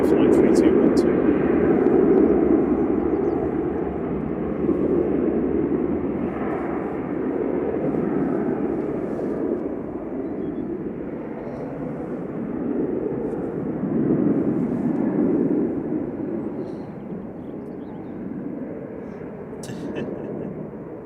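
A Ryanair airliner departs from runway 05 left at Manchester Airport as a broad, distant jet roar that swells and fades slowly, heard steadily throughout with no clear voices over it.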